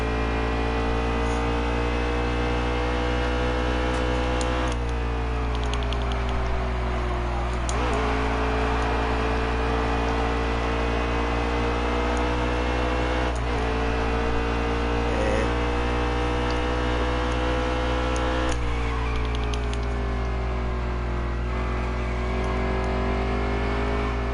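A video-game Xfinity Series race car circles ISM Raceway, its engine droning steadily with periodic dips and rises in pitch as the driver lifts and gets back on the throttle through corners; continuous, loud, without talk.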